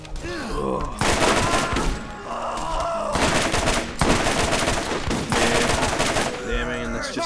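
Machine gun fire from Borderlands rattles in loud, dense bursts, pausing briefly between volleys, with a voice speaking faintly underneath.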